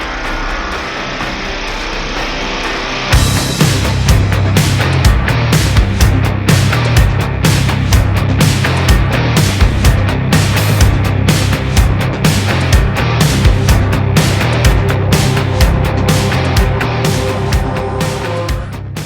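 A metal piece of a Texas Speed intake being cut and ground: a quieter start, then about sixteen seconds of loud, continuous, rasping grinding with a steady, dense texture, close and alone.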